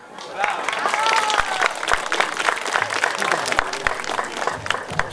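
Audience applause for a vocal ensemble at a village festival in Prisăcani: steady, dense clapping from a moderately distant crowd, sustained throughout, with faint voices mixed in.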